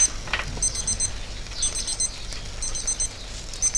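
Repeated high electronic beeps in short double bursts from a digital thermometer probe sitting in the centre of hot barbecue coals, steady and fairly near over a low outdoor rumble.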